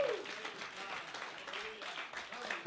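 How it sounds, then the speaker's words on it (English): A church congregation claps in praise during a worship service, a steady wash of many hands at moderate distance, with voices mixed into the applause throughout. "Can you give God a mighty hand clap of praise?"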